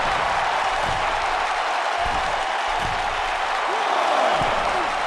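A simulated arena crowd roars continuously at a WWE 2K19 wrestling match recreating Backlash 2004. It is a dense, steady wall of cheering and applause with a commentator's voice running underneath.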